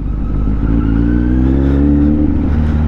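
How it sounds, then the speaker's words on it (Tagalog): Honda CB500X touring motorcycle engine running under test, a loud steady drone whose pitch climbs gradually as it revs, close and continuous with no voices. "Testing natin yung motor ng tropa ko. So CB 500X yun. So ano siya, touring bike."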